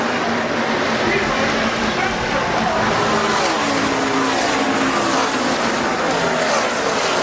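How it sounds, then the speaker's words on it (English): NASCAR trucks racing in a tightly packed pack at Talladega superspeedway, a loud, continuous roar of many engines blending into one dense wall of sound, with commentary voices running over it. "Johnny Sauter holding off the crowd and winning for the second time at Talladega"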